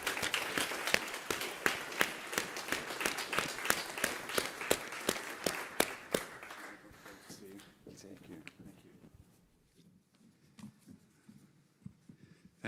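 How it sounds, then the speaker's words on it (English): An audience at a Help to Grow Management alumni event breaks into a round of applause, dense and loud clapping for about six seconds before it thins into scattered claps and fades to near quiet. "let's give him a very big round of applause"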